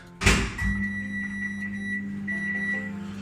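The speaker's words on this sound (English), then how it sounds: "Stick it in the microwave for about 4 minutes." A clunk like a door shutting, then a microwave oven hums steadily with a constant high whine running alongside its low drone.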